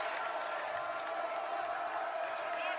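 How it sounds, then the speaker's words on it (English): A basketball arena crowd at an Appalachian State versus Furman game sends up a sustained, dense roar of cheering and voices, steady and fairly loud throughout. "Crowd coming alive."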